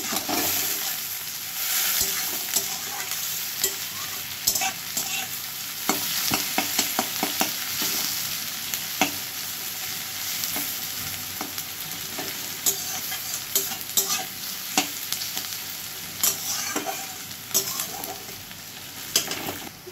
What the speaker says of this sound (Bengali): পেঁয়াজগুলো ভাজা করে নেব